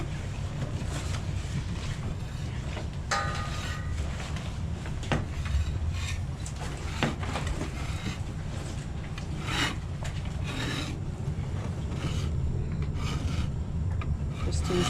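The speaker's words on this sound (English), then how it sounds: "Just scraping away all the algae." Continuous, close scraping and rasping as algae is scraped off a boat hull, a steady gritty rubbing with short sharper strokes throughout and no talk.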